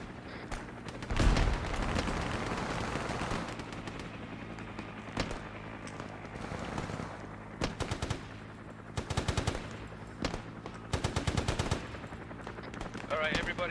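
Bursts of automatic gunfire in a military shooter video game, with several rapid rattling volleys and scattered single shots at moderate distance over a low ambient hum.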